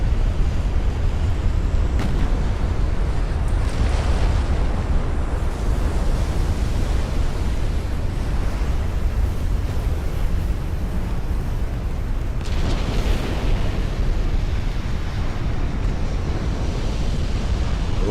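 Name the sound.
warship exploding from HE shell hit in Ultimate Admiral: Dreadnoughts video game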